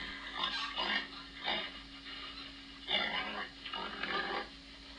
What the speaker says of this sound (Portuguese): Pig, porco.